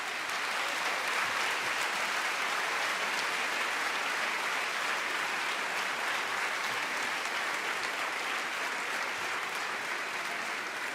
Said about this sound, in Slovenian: lep aplavz, prosim, za Matica